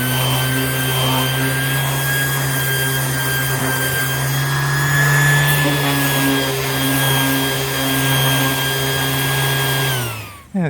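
A power sander scuffs the surface of a car canopy cap, a loud, continuous motorized whine with a steady abrasive rasp, running close and unbroken before winding down at the end.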